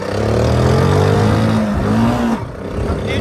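A Honda Cub C70 motorcycle engine runs steadily at close range, its pitch rising as it revs up, then dropping abruptly as the gear shifts, before idling on.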